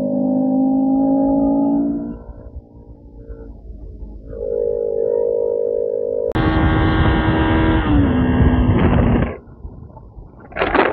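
A Bajaj Pulsar RS 200 motorcycle engine hums steadily while riding a zigzag ghat road, its pitch rising and falling with throttle and gear changes, then surging louder and higher before easing off near the end.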